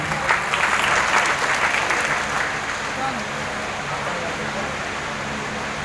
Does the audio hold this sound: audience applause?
yes